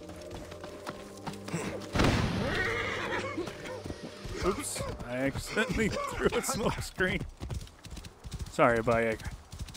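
Hooves clip-clop and a horse neighs in Assassin's Creed Origins, the game horse answering a call; the hoofbeats are fairly close and repeated, with a loud whinny near the end, under someone talking through much of it.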